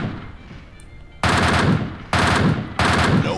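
An MK rifle fires in PUBG Mobile in three loud, close bursts of rapid shots following a quieter opening stretch.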